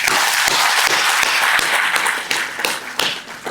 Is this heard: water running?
no